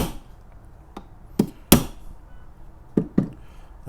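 A knife is used as a hammer to drive small brad or tack nails, giving a few sharp metallic taps and knocks spaced irregularly, with a louder strike near the middle, in a quiet setting.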